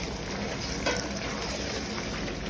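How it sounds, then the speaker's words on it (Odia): Curd poured into a hot pan of chicken korma sets off a loud, steady sizzle and frying hiss lasting throughout, with a brief burst of spattering as it hits the oil. "ଦହି ପଡିଲା"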